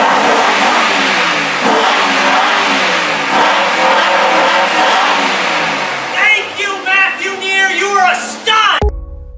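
A real sports car's engine revs and roars up close, loud and sustained, then sputters through a few choppy bursts before cutting off abruptly.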